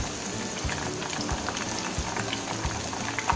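Jackfruit chilli frying in a pan, with curry leaves added near the end, giving a steady close bubbling sizzle with dense crackles and pops and no talking.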